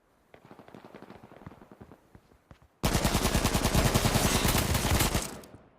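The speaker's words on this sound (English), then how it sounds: "Well guys, there's the AK-47, the first AK-47 action." AK-47 rifle fire in the video game H1Z1: a string of separate sharp shots comes first, then a loud, dense burst of rapid automatic fire lasting about two and a half seconds before it cuts off.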